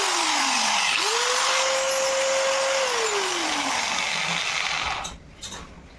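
An angle grinder with newly replaced carbon brushes spins up to a steady high whine, holds at speed for a couple of seconds and then winds down as it coasts to a stop, loud and close.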